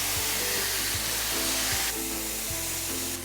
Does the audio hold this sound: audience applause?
no